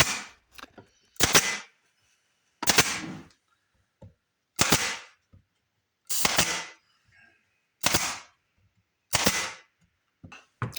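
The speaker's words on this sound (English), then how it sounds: "I shot it on with just a few pin nails to hold it in place." Sharp pin nailer shots driving pin nails into the wooden top of a picket project, six loud distinct bursts spaced roughly every second and a half, each with a brief clatter, close by with quiet gaps between.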